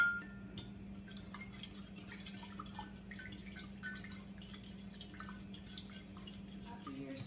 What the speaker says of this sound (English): And you're going to stir it.